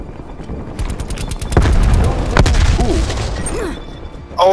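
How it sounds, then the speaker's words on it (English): Gunfire in Call of Duty: Black Ops Cold War during a Domination match, loud rapid automatic bursts and heavy booming shots in quick succession, with a crack near the end. "Oh, it's a sniper."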